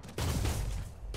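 A loud, dense burst of rapid gunfire from Marvel's Spider-Man on PS4, sustained for about a second after a brief quiet start.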